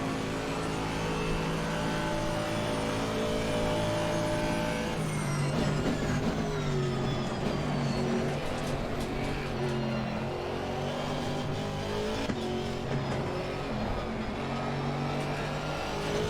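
A race car engine in Assetto Corsa Competizione drones continuously, its pitch rising and falling as it shifts gears and brakes through a chicane, steady and close throughout.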